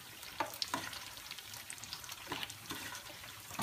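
Tofu simmering in a pan, a quiet continuous bubbling sizzle with several soft clinks and stirring scrapes, close and faint.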